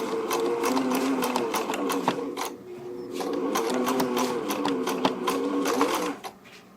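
A sewing machine runs and stitches in close, steady mechanical bursts with a rhythmic whirring clatter, pausing briefly twice before slowing to a stop.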